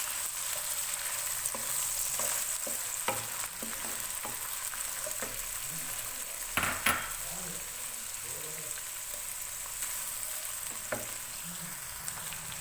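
Onions frying in hot oil for chicken salan, a steady soft sizzle with occasional stirring clinks and scrapes, close and moderately quiet, with no talking.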